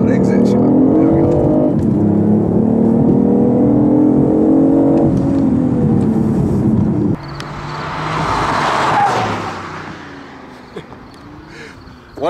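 A 2015 BMW i8 hybrid accelerates hard on a racetrack with a loud rising engine drone that climbs through the gears. Midway it drops to a rougher, quieter rush of wind and road noise.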